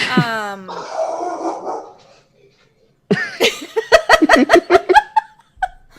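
Dogs in a home podcast setting bark in a quick burst of about eight sharp, close barks, followed by a brief whine; a voice talks just before the barking starts.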